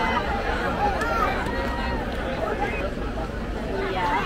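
Large crowd rushing to claim spots for the Fantasmic show at Disney's Hollywood Studios, a dense steady babble of many voices and shuffling footsteps that stays loud and constant throughout.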